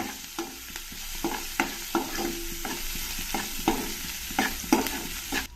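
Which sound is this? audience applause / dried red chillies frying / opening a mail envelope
dried red chillies frying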